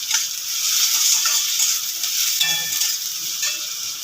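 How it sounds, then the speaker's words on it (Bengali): Chopped onion and tomato frying in a pan, a steady bright sizzle with occasional stirring scrapes, close and continuous with no talking. "পেঁয়াজটা আমি 1 মিনিট ভাজার পরে টমেটোটা দিয়েছি"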